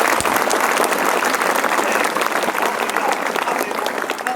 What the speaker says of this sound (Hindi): 1 मिनट के लिए ताली बजा के दिखाओ जरा, कैसा ताली बजा रहे हो?